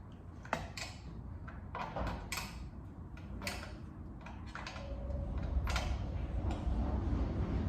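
A socket wrench ratchets in short bursts of clicking while the tail light nuts on a first-generation Camaro are tightened, close and fairly quiet with pauses between the runs and no talking.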